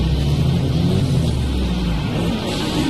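Racing car engine in a video game at the Brno circuit, a steady low droning roar held at a constant pitch throughout, continuous and fairly loud with no speech.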